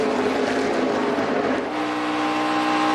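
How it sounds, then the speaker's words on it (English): A NASCAR Nationwide Series race car at Darlington Raceway eases briefly off the throttle. Its loud engine roar dips for a moment, then holds steady again, with no voices. "And you heard Chase Elliott have to breathe the gas pedal there just a little bit."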